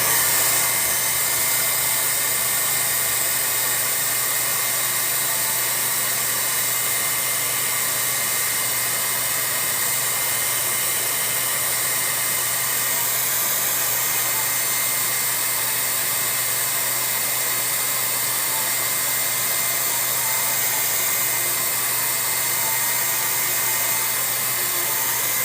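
A hair dryer blows continuously to dry paint on a canvas, a loud, steady rushing whir that holds unchanged for the full stretch with no talk.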